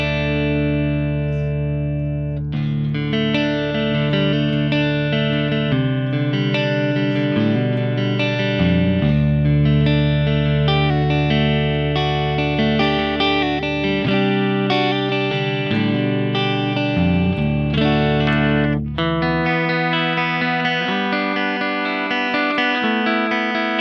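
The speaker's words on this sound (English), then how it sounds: "Let me add some amp compression to this, actually." A compressed, dry electric guitar with a British tone plays sustained chords and notes through a Kemper Profiler amp, loud and even, with no reverb.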